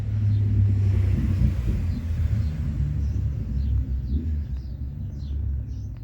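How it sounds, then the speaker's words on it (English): A Fiat 500 engine idles with a cylinder misfire, a low, uneven rumble that stumbles irregularly while running. It is close and continuous, with faint bird chirps in the distance and no speech. "cylinder misfires."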